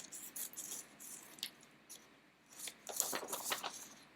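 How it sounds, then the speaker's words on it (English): Sharp scissors snip through paper to cut out a fan shape for a fruit-fan craft. The cuts come as a quiet, uneven series of crisp snips in clusters, with short pauses between them. "So we're going to just cut really quick and cut out the shape of our fan."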